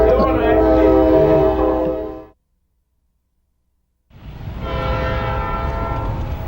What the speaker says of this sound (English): You have to scream over the train.